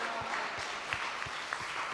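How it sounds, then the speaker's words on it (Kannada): A church congregation claps hands together in praise during a worship service, a steady rhythmic beat of fairly soft, even claps with no voices over it. "ಚಪ್ಪಾಳೆ ತಟ್ಟಿ ದೇವರಿಗೆ ಸ್ತೋತ್ರ ಮಾಡೋಣ"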